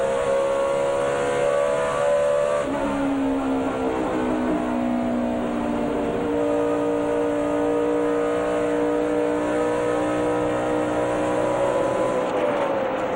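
Tony Stewart's race car at the 2008 Texas race drones loudly and continuously, the engine note sliding down in pitch and then holding a steady roar amid other track noise.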